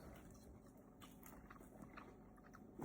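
Brussels sprouts crunch softly as someone bites and chews them close to the mic, making faint, steady crisp mouth sounds with no talking.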